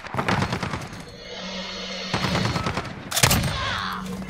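Call of Duty gunfire crackles in rapid automatic bursts, loud and close, separated by short pauses, with game background noise between the volleys and no speech.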